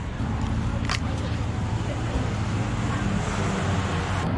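Steady roar of passing road traffic in Chiang Mai, Thailand, a continuous broadband wash of cars with a brief click near the start.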